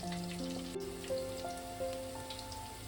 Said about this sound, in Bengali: আমি বড়াগুলোকে একটু ভালো করে লাল লাল করে এবার ভেজে নেব।